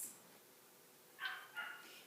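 A puppy barks outdoors at a distance, two short yips a moment apart, faint and thin against a quiet indoor room with no talking.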